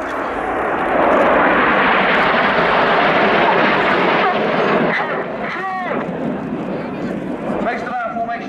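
The Red Arrows' jets fly a formation display at the Royal International Air Tattoo, giving a loud, broad roar that builds and then slowly fades, while a commentator talks over the engine noise.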